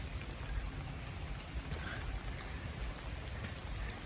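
Rain falls outdoors at a nursery garden during heavy rains, making a steady, even hiss with no breaks and a soft low rumble underneath. No other sounds stand out.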